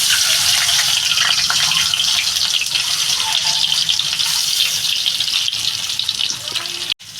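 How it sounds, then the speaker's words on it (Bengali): Eggs frying in hot oil in a kadai, a loud, dense, continuous sizzle and crackle that tapers slightly before a sudden break at the end. "তেলটা আমার গরম হয়ে গেছে আমি ডিমগুলো দিয়ে দেবো"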